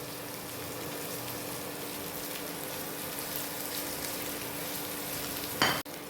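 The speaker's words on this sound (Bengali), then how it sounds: "এবার সবগুলো একটু ভেজে নেব" Diced onion and other vegetables frying in a pan, a steady close sizzle with faint stirring scrapes running throughout, ending in a brief clatter.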